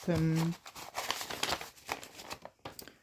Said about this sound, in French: les autres billets de 10 qui partent dans l'enveloppe